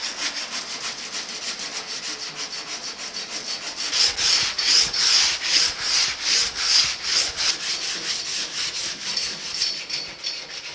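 Coarse 40 grit sandpaper worked by hand over a steel inner door patch panel on a 1950 Chevy truck, a steady rhythmic scraping that grows louder and more insistent midway, close up with no talking.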